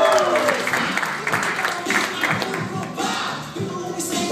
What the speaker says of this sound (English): Come on, guys, give a clap for flipping one time